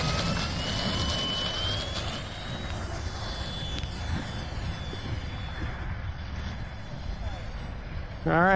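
FMS F4U Corsair 1.4 m RC warbird taking off in gusty wind, its electric propeller motor whining steadily and rising in pitch, heard close over heavy wind rumble with a brief sharp sound near the end.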